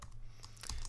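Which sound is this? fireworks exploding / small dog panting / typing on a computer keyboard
typing on a computer keyboard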